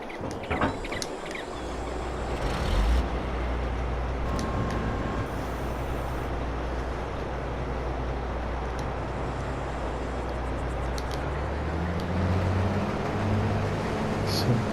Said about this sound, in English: I'm going to jump into the harvester and we will harvest the wheat